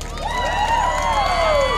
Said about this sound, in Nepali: एकचोटि सम्पूर्ण आयोजक टिमको लागि सबैजनाले जोरदार ताली है त